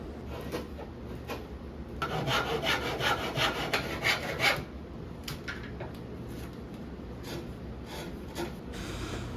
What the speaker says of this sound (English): Then I'll proceed to cutting out and chiseling the half laps.